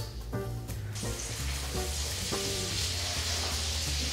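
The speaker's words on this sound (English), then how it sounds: "we're going to go ahead and saute our onion and garlic in the bacon grease" Onion and garlic saute in bacon grease, a steady loud sizzle and crackle with a few scraping stirs of a utensil in the pan.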